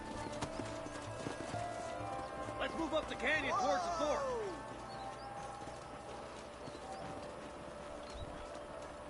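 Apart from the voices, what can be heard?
horses walking, hooves clip-clopping, in Red Dead Redemption video game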